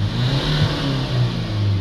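A diesel engine held steady at raised revs during an exhaust back pressure sensor check, a constant loud drone with a low harmonic hum and no voices.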